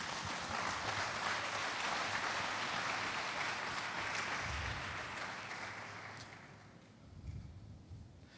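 A church congregation applauds during a pastor's sermon, dense and steady clapping that is fairly quiet and softens toward the end.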